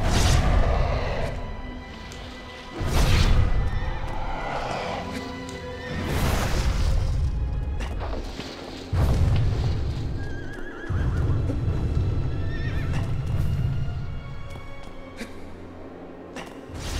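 A horse in the video game Shadow of the Colossus neighs loudly, with galloping hooves, heavy crashes and booms filling a dense game soundscape.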